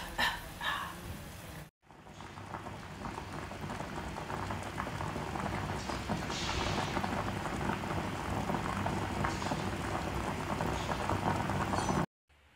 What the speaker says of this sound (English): totally diced and ready for the pot, which is being boiled